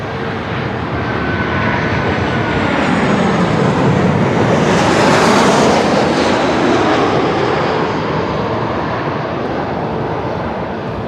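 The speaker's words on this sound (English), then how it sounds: "Ty is heading out the A350." Airbus A350 airliner moving at Melbourne Airport, a loud, steady broadband jet engine roar filling the whole stretch and swelling slightly toward the middle, with no voices.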